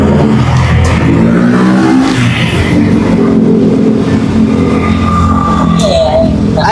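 A car exhaust roars loudly and steadily through a Greddy chambered muffler with a leaking, damaged pipe joint, a close, rough low rumble that holds throughout, with brief higher squeals near the end.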